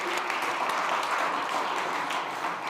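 Audience applause at a food summit session at SXSW 2025, a steady wash of many hands clapping together, moderately loud and continuous, with no voices over it.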